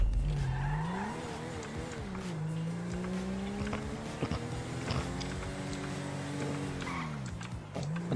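Car engine revving hard and shifting in a roleplay driving game, a steady rising and falling whine with occasional tire squeals, loud and continuous throughout with no talk over it.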